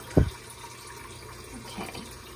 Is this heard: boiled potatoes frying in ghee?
no